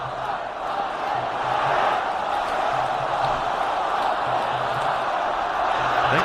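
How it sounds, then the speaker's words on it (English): Cricket crowd at a Pakistan versus England T20 match chanting a player's name, a steady, rhythmic roar of many voices that continues through the whole stretch without a break. "I think the crowd are chanting his name"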